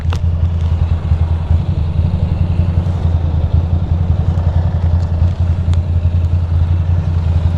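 A motorcycle engine runs loud and close with a steady, throbbing idle-like rumble. It holds the same level throughout while the rider parks next to a Norton motorcycle.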